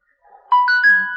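A phone chimes a text message notification, a short rising series of clear electronic tones that rings out loud and alone after a brief faint lead-in.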